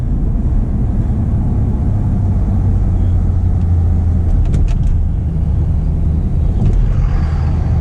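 Custom Jeep Grand Cherokee Limited engine accelerating hard, a loud continuous low rumble heard from inside the cabin with the drone holding steady and strong throughout.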